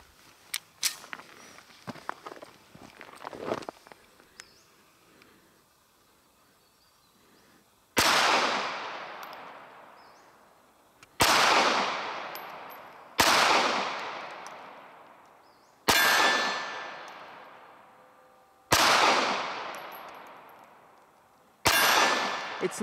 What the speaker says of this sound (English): All right, let's shoot it some more.